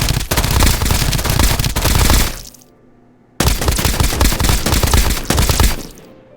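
Rapid automatic gunfire from hip firing in the video game Escape from Duckov, two loud sustained bursts separated by a brief pause of near silence.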